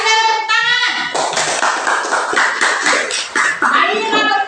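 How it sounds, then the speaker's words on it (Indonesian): A classroom of students applauding together after a lesson question, loud bursts of clapping that swell and dip in uneven waves, with a teacher's voice speaking at the start and briefly over the clapping. "Oke, terima kasih dan tepuk tangan."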